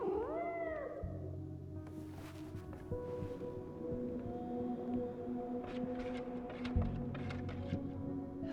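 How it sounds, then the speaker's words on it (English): Cat meowing in the video game Life is Strange: Double Exposure, a couple of soft, rising meows early on, heard faintly over a low ambient game soundtrack with light clicks. "It's the cat we found from earlier."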